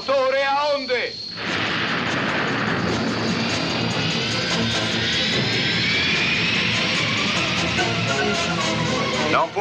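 Auxiliary engines of a spaceship in the animated series Star Blazers roar to life, a loud, steady, rumbling blast with a rising whine that fills the scene after a brief voice at the start.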